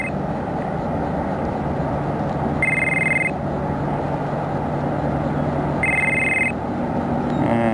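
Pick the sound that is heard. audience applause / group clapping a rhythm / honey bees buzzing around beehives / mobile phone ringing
mobile phone ringing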